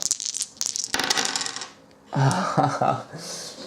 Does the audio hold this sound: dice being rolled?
yes